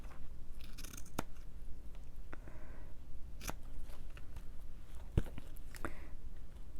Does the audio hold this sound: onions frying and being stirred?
no